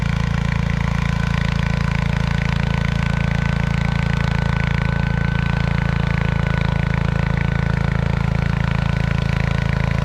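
A John Deere 140 H3 garden tractor pulls a single-bottom Brindley plow, its engine droning loud and steady up close at a constant low hum.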